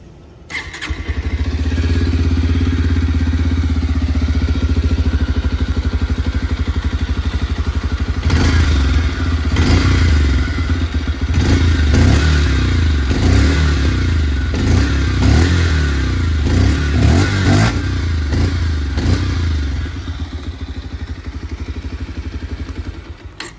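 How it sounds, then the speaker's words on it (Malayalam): A Bajaj Pulsar 125 motorcycle idles close by with a steady exhaust note, then is revved in a run of sharp bursts before settling back to a smooth idle. "ഞാൻ ഇതിൻ്റെ എക്സോസ്റ്റിനോട്ടൊന്ന് ഞാൻ കേൾപ്പിച്ച് തരാം"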